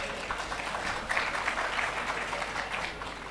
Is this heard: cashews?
no